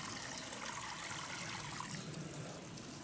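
Water from a solar shower running and dribbling steadily, a close, continuous trickle with no talking.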